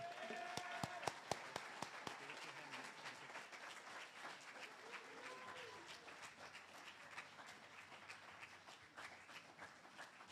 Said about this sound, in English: Please give a round of applause to Akhilesh Kumar